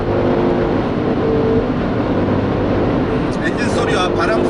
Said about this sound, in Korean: 차창을 가르는 바람 소리와 엔진 소리 뿐입니다.